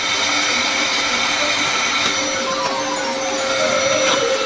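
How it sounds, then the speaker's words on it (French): An ordinary hair dryer running continuously, a loud steady whooshing blower hum with a faint whine, unbroken from start to end. "Un sèche-cheveux ordinaire nous aidera."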